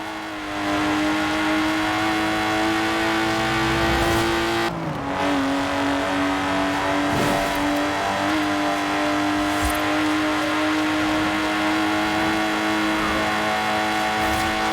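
A Lotus Exige in Forza Horizon 4 revs hard, its engine note holding a steady high drone with a brief dip partway through before climbing again, loud and close throughout.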